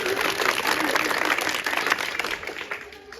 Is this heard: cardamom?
no